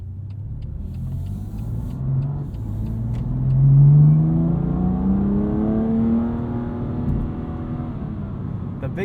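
A 2021 BMW M2 Competition with a DCT gearbox pulls away on the road, heard from inside the cabin as its engine note climbs and revs up, then settles into a steady, moderately loud hum.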